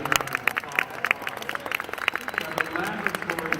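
An audience applauds a speaker with rapid, crisp hand claps that pulse irregularly throughout, moderately close, with a faint murmur of crowd beneath.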